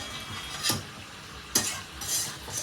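Mutton sautés in a pan while a utensil stirs it, giving a low sizzle under a few distinct scraping strokes close to the microphone.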